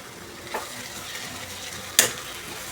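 A spoon stirs a besan-coated bell pepper (shimla mirch) stir-fry in a hot pan. Three sharp scraping strokes rise over a faint, steady sizzle, and there is no speech.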